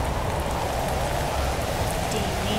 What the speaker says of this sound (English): Acid rain.